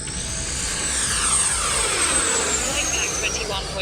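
An E-flite F-16 electric ducted-fan RC jet flies a low knife-edge pass, its loud whooshing whine sweeping steadily in pitch as it passes and continuing throughout.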